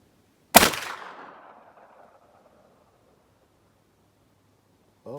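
A single loud gunshot from a Rossi lever-action rifle firing an SST 44 bullet outdoors, a sharp crack followed by a long rolling echo that fades over about two seconds into quiet.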